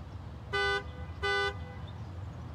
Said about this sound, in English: we have a line down the road honking and flashing lights, parading